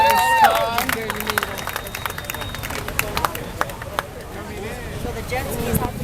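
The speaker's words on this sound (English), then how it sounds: "how about a round of applause for Waimea Bay there?" Crowd applause and clapping from spectators at the Eddie Aikau big wave surf contest at Waimea Bay, a dense patter of hands with scattered cheers, moderately loud and steady under outdoor babble.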